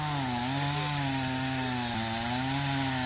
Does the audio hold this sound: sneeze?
no